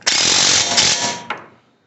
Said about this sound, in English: crank them in with your automatic hammer